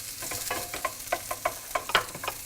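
Scallions hit a hot pan already holding diced speck, giving a soft, close, steady sizzle with light rhythmic scraping taps of a utensil stirring the mix.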